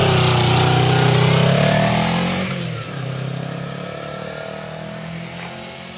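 A small engine runs loud and close with the choke off, its steady drone revving high and then dropping to a lower, slightly uneven running note.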